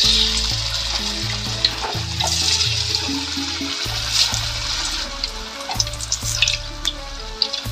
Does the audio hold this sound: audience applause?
no